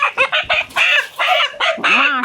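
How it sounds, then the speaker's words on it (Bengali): Layer hens about 25 weeks old cluck and squawk loudly in a poultry shed as one is caught, a dense run of close, overlapping calls with no talk. "ভাই, আমরা কি একটা মুরগি ধরে দেখতে পারি আপনার?"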